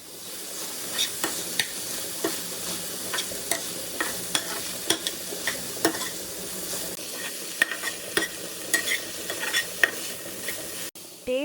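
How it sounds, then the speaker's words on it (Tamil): Snake gourd fry with grated coconut mixed in a pan, a close, bright sizzle with frequent quick scraping and tapping strokes of the spatula throughout. "நல்லா மிக்ஸ் பண்ணிவிட்டு அடுப்பை ஆஃப் பண்ணி இறக்கிடுங்க."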